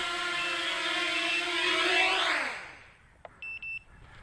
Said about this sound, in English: that was the small buzzer on the flight controller beeping to give us a warning